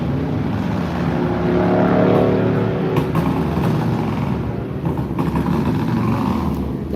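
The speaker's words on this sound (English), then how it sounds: "They're tuning on that bike again." A motorcycle engine being tuned at a Nitro Nationals drag race, American-made bikes such as Harley and Indian nearby, a sustained loud rumbling drone that swells and dips, heard from some distance with crowd ambience.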